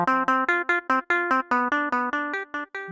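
Dry Telecaster electric guitar with effects off plays a quick run of short, choppy picked chords, clean and close, about a dozen hits in under three seconds.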